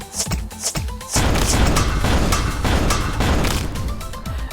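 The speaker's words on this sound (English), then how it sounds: "We can go for an airstrike." Airstrike attack in the video game Epic Battle Fantasy 5: a dense barrage of booming explosions and impacts rolls on continuously after an opening burst of sharper hits, loud and sustained throughout.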